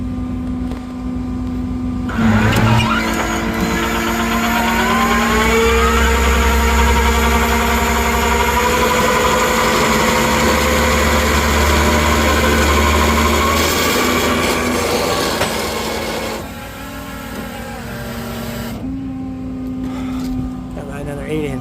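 A truck's winch pulls a wrecked car with a stuck steering wheel back onto the flatbed deck, giving a loud steady motor whine and drone that rises in pitch and then stops, with an idling engine underneath.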